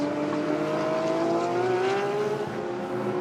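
A Ferrari GT race car at Sepang accelerates hard down the start-finish straight during a GT World Challenge Asia race, its engine note climbing steadily through the revs, loud and close, with a second engine sounding in the background.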